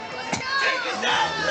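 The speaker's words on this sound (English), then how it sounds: "You guys can hear the crowd in the background." Crowd noise with shouts and cheers from spectators at an amateur 170 lb kickboxing fight, a steady close murmur of voices with a brief yell rising above it.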